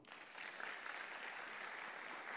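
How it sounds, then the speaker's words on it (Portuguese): Church congregation applauding during a sermon, a dense steady wash of clapping that swells in quickly and holds even and fairly loud throughout, with no speech over it. "Aplauda ao Senhor."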